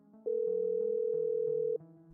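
A single steady electronic telephone tone sounds for about a second and a half over soft background music, clean and sustained before cutting off.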